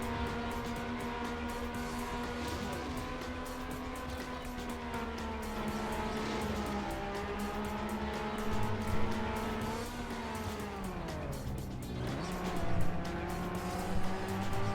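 A race car in Trackmania Nations, running a beta physics mod, holds a steady, loud engine drone with shifting pitch and tire noise throughout, easing down briefly mid-run before climbing again.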